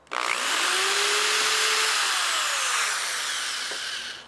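A power drill bores a hole into metal, a steady loud whine with shifting pitch as the bit cuts, running continuously before easing off near the end.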